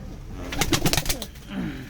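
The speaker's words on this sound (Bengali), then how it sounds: "দেখো এদিকে পায়রা দেখো এক পেয়ার এখানে" Pigeons in a newly built loft of high-flying Giribaz pigeons coo softly and close by, a short run of low, rounded coos over faint background noise.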